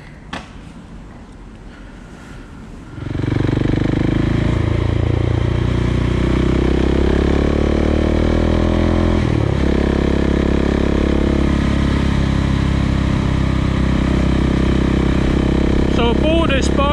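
A 2020 KTM 690 SMC R motorcycle starts up after a quiet moment, then a loud, close single-cylinder engine drones and revs steadily with gear changes while riding along country lanes near Hereford.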